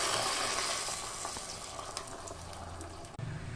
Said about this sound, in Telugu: వాటర్ ఇందులో పోసేయాలి.